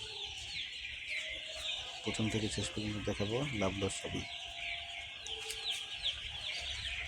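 Two-day-old broiler chicks on a poultry farm in winter keep up dense, high-pitched cheeping and chirping, with a burst of clucking calls in the middle, while someone talks over them.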